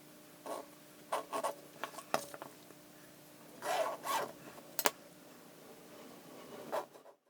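A marker scratches along fabric while a 7mm seam allowance is traced around the top cutout edge of a zipper pocket panel, heard as close, intermittent short scratchy strokes separated by quiet pauses.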